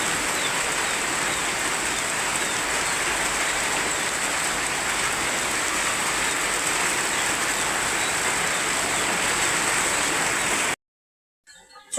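Steady rain falls in a rural setting, a dense, even hiss of drops continuing for about eleven seconds before cutting off abruptly.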